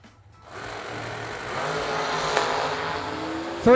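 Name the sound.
drag racing dragster engine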